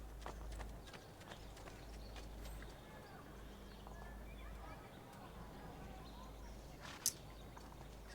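Horse hooves clip-clop at a steady walking rhythm in the video game Assassin's Creed 2, moderately close amid low outdoor game ambience, with a sharp click near the end.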